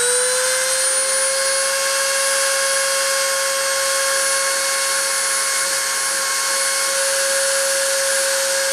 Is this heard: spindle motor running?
yes